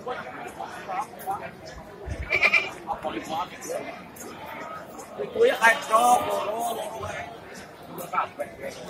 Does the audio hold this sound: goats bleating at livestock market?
yes